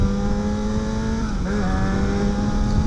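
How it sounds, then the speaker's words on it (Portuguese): A Yamaha XJ6 motorcycle's engine runs loud and close with a steady low drone, holding an even idle-like hum with a slight rev change midway and no talking over it. "Essa é uma moto linda, XJ6. Uma moto muito forte."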